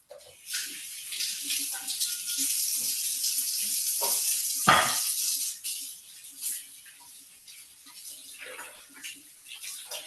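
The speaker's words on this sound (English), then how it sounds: "I'm going to just quick wash my hands." Hands being washed under a running kitchen tap, a steady close rush of water that briefly swells with a splash midway, then trails off unevenly toward the end. No voices are heard.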